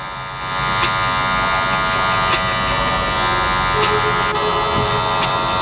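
Electric hair clippers buzz steadily and close up while cutting hair for a fade, the hum holding constant for several seconds after starting up.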